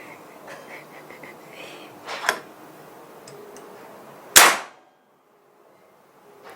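A single sharp, loud crack of a PCP air rifle shot, preceded by a quieter metallic click and faint background noise, then near silence.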